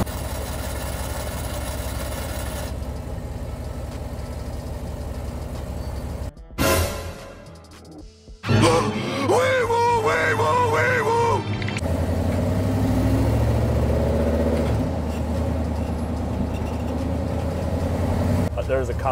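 A loud cammed street truck engine idles with a steady low rumble throughout, with a brief dip partway through. Someone talks over it for much of the time.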